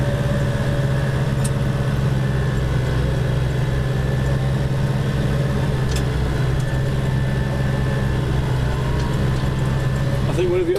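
A brand-new tractor engine runs steadily while mowing a field for the first cut of the season, a loud continuous low drone throughout with no pauses.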